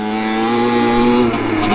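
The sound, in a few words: Simson moped engine revving and jerking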